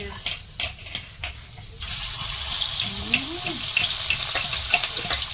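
A few clinks and knocks give way to a steady, close sizzling hiss of snakehead fish frying in plenty of hot oil in a wok.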